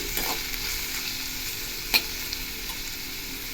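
Onion, ginger and garlic fry in a pan for egg gravy, a steady close sizzle with one sharp utensil clink against the pan.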